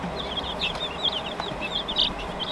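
A young chick kept apart from the other chicks peeps in a string of short, high chirps repeated throughout, close and fairly clear over a steady background hiss.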